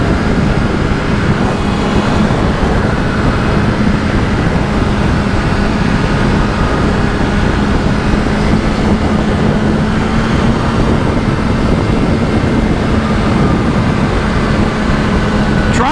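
A BMW S1000RR motorcycle on the move, a loud, steady engine drone mixed with heavy rushing wind noise, sustained evenly from start to finish with no talking.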